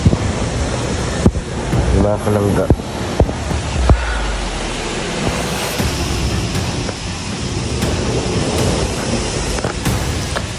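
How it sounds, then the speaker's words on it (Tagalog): Strong wind ahead of a typhoon roars and buffets the microphone continuously, with a brief voice speaking early on beneath the gusts. "Ayan lang po ng hangin, sobrang lakas."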